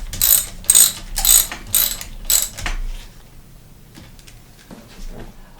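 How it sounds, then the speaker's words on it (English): A ratcheting socket wrench with a hex head socket turns a bolt on a mountain bike, giving five or six loud, close bursts of rapid clicking, then fading to faint taps. "I'm using my hex head socket on my socket wrench."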